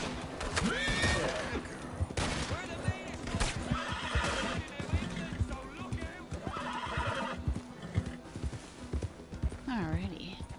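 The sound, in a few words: horse neighing in a video game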